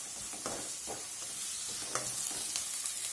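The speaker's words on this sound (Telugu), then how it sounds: "1-2 నిమిషాల పాటు బాగా ఈ ఆనియన్స్ని వేపుకుందామండి మనము" Onions with red chilli sizzle steadily in a pan, broken by several scraping stirs of a spoon at irregular intervals.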